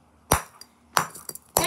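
A metal hammer strikes a block of ice holding frozen Lego minifigures three times, each a sharp, close clinking crack with small chips and taps between blows, in an otherwise quiet room.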